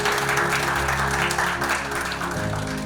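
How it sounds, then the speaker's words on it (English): An audience at a Democracy Day address claps for itself. Continuous, dense applause runs through the short clip over a steady low hum with tonal layers, with no clear pauses. "Please clap for yourselves."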